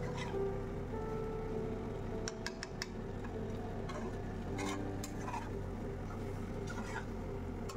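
Yogurt-marinated mutton stirred and fried in a pan, a steady dense sizzle throughout with occasional scraping and ticking clicks from the spoon against the pan.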